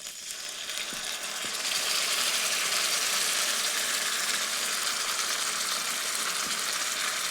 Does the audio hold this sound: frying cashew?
yes